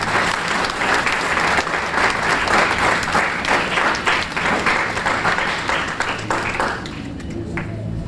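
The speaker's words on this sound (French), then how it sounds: "j'aimerais que nous applaudissions tous les participants" A large audience applauds steadily, dense clapping filling the air for several seconds before thinning out near the end.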